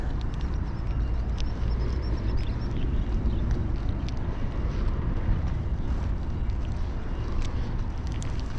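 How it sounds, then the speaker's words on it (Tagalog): Strong wind at sea during a fishing trip roars as a dense, constant rush buffeting the microphone, with no break or change over the whole stretch. "dahil medyo malakas po ang hangin"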